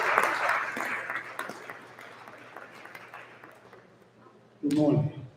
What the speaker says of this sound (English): So give Mr. Andrews a round of applause